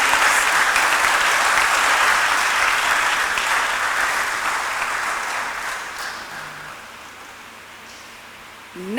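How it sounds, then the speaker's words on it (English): Sustained applause from a large lecture audience, loud and dense at first, gradually thinning and fading over several seconds. "May we please give our lecturer another big applause"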